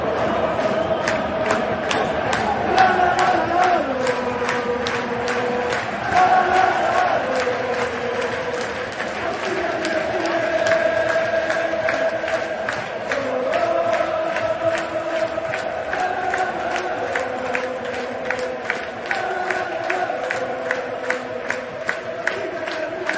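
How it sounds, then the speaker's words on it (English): Stadium crowd at a Portugal football game, a steady, loud roar of many voices with rising and falling chants and cheering sustained throughout, no single voice standing out. "Let's recapture that atmosphere from the stadium the other night"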